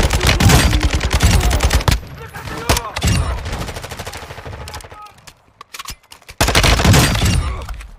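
Loud, close gunfire from a Warzone 2 match, with dense rapid bursts at the start and again near the end and a quieter gap between them.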